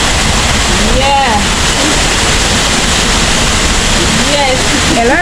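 Roar of water pouring down Somerset Falls, a loud, steady broadband rush filling the whole stretch, with a few people talking briefly over it now and then.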